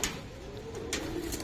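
Green-necked pigeons in a cage coo softly and close by, in a brief low murmur.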